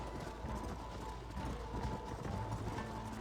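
Horse hooves clip-clop in a rapid, continuous galloping rhythm in the Western video game Red Dead Redemption, with steady ambient game noise around the hoofbeats.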